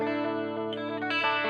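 An electric guitar plays through an effects pedal dialed to an 80s-style tone, a sustained shimmering chord ringing loud and close with a couple of fresh picked accents, recorded as part of a live audio session.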